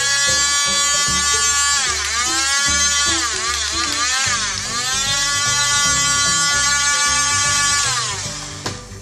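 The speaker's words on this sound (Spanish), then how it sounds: "Y le vamos a secar el pelo." A toy hair dryer from a princess hairdressing kit blows on a Rapunzel doll's hair, giving a steady, close electric buzz with a whining pitch that rises and falls, running without a break and without talk.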